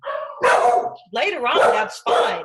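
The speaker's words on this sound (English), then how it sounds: "Sorry for my dogs." Pet dogs barking loudly and close in a home during a live online talk, three bursts of sharp, overlapping barks with a voice speaking briefly among them.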